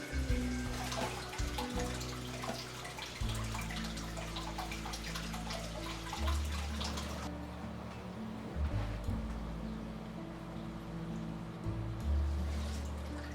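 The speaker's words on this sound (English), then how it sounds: "So it's not pouring straight down into the tank and disturbing the fish too much" Water pouring and splashing steadily into a goldfish tank during a water change, a continuous close gurgling rush with bubbling, running on without talk.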